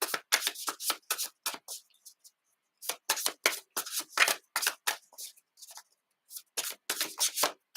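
A deck of playing cards is shuffled by hand, giving repeated bursts of crisp riffling and flicking, close and fairly loud, in quick rhythmic runs separated by short pauses, with no talking.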